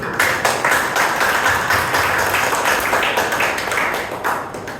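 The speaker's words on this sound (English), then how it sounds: "Let's give a lot of applause to those" Audience applause at a Bangalore Toastmasters club meeting, many hands clapping in a dense, steady patter that stays loud throughout and tapers slightly near the end.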